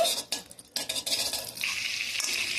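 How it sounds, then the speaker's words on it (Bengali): Butter and a little white oil heat in a kadai while the butter melts. A soft, uneven sizzle comes with light scraping and clinks from stirring, and a hiss lingers in the background. "বাটারটা গলে গেলে আমি এখানে ছেঁকে নেব বাটারটা গলে গেছে"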